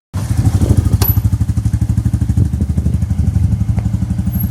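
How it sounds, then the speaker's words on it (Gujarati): A Bullet motorcycle pulls away with a loud, close, steady thumping engine beat that runs throughout, with a brief clatter early on and no talking. "તો સમય થયો છે સવારના 9 અને બાઇક થઈ ગઈ છે રેડી અને બસ અમે લોકો નીકળી રહ્યા છીએ."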